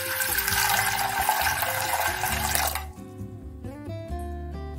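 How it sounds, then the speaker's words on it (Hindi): A cup of water is poured into a cooking pot in a home kitchen while stuffed parwal is being made, a loud splashing stream for about three seconds, then it stops, leaving a few faint clinks and a low hum. "इसमें हम एक कप पानी डालेंगे।"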